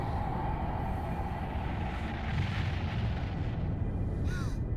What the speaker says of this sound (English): Look, Father, fireworks.